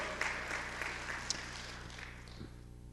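Audience at a physical theater talk giving a scattered, faint round of applause, a thin patter of hand claps with a few sharper individual claps, heard at a distance and fading toward the end.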